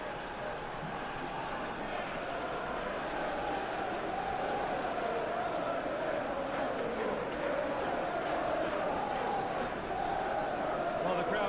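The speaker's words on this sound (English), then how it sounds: "the crowd clearly like what they just saw" Stadium crowd in a football video game, Aston Villa versus Manchester United in the English Premier League, roars in a steady, dense wash of cheering that swells slightly and holds throughout, moderately loud.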